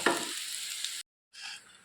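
Onion and green chili frying in a pan, a steady bright sizzle with faint stirring that cuts out briefly to silence before resuming.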